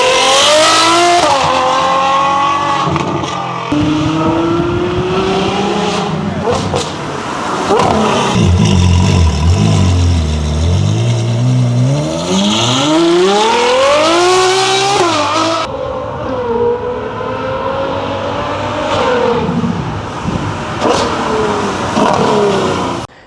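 Ferrari 812 GTS with a full IPE exhaust system and 1016 carbon aero, revving hard and loud, its engine note climbing and falling in repeated sweeps with a deep swell and drop midway, sustained with no talking.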